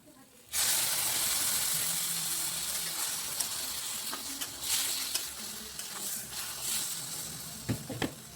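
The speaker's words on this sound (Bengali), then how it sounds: "কিছুটা জল দিয়ে আমি এই তরকারিটাকে সেদ্ধ করতে রেখে দিলাম" Water goes into a pan of spiced singi fish curry tempered with gandal leaves, setting off a sudden loud hiss that settles into a steady bubbling sizzle with occasional pops and clicks up close.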